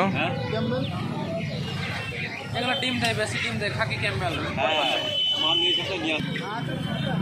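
Desi chickens cluck and squawk at a busy hen market in Uluberia, their calls rising here and there beneath nearly continuous talking voices and crowd noise.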